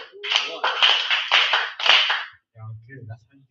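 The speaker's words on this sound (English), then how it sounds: "can I get 4 claps for the poet?" An open mic poetry slam crowd claps for a poet in four firm, evenly spaced group bursts, loud and close. A faint low voice or hum follows after the clapping stops.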